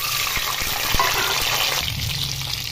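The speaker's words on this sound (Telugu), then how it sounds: "ఎగ్ ఫ్రై చేస్తున్నాను." Eggs coated with turmeric and salt fry in hot oil, giving a loud, close, continuous hiss and sizzle that softens slightly near the end.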